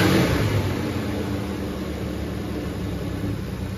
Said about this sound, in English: you're a good sounding slant six.